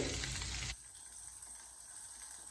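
Potatoes frying in oil for a Bengali paneer and potato curry, a loud hiss that drops after the first moment to a steady, quieter sizzle.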